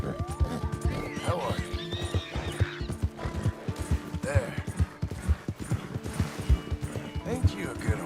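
A horse in Red Dead Redemption 2 whinnies and snorts while its hooves clip-clop in a steady, close rhythm, with someone speaking softly to it over the sounds.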